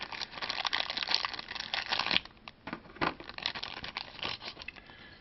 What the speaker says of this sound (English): Let's get these out of the bag here.